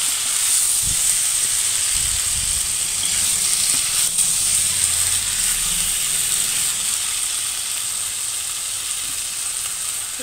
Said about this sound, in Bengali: মুরগির মাংস যত কষানো হবে খুব টেস্টি হবে।